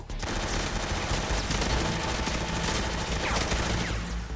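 Dense gunfire from the Metal Gear Solid 3 video game, a continuous loud barrage of overlapping shots and bursts with no pause, filling the whole stretch.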